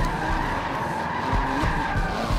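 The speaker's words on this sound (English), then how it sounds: "when you whip one of these cars sideways, it's very difficult to keep them sideways" A race car skids sideways in the Forza Motorsport 7 video game, a continuous loud tire squeal over engine roar with slight surges, sustained throughout.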